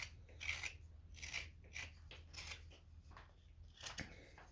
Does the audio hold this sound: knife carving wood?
yes